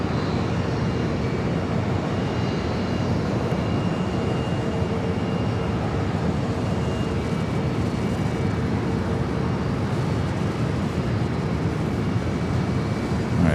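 An American Airlines A321 jet takes off from runway 25 right at LAX, a loud, steady engine roar at a distance holding throughout with a faint tonal whine over it and no talk.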